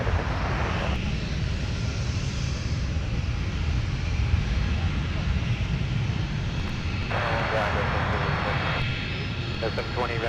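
A jet airliner roars steadily during takeoff at Minneapolis airport, a loud sustained engine rumble with air traffic radio chatter cutting in over it.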